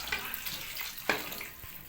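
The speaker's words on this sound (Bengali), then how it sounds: "জল দিয়ে দিলাম।" Water is poured into a cooking pan of spiced radish and capsicum curry, giving a short close splash and hissing rush with a brief sizzle in the middle, then quickly fading.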